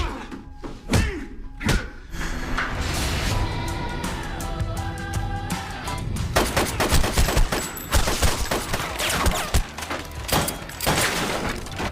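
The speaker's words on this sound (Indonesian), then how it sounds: "Baku tembak pun tak dapat dihindari" Gunfire in an action-movie shootout: loud, dense bursts of shots and heavy thuds crowd together over a steady music score, with no clear talking.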